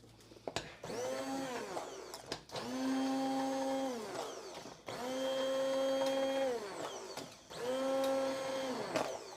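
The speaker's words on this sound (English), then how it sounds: "So now we're just going to use the immersion blender." An immersion blender whirs through enchilada sauce in three or four sustained bursts, each starting and stopping sharply with brief pauses between, close and fairly loud.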